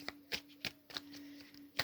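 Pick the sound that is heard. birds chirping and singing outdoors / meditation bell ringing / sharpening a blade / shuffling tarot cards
shuffling tarot cards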